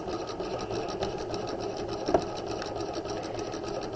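A sewing machine runs steadily, back-stitching and then sewing a dart line along a transferred dart leg in fabric while making a waistline facing. The whirring motor hum holds constant for the full few seconds, close by, with one brief click midway and no talking.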